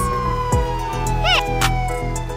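Ambulance siren in a kids' cartoon song, a brief wailing electronic siren sweep layered over bright music, sitting in the mix rather than standing alone.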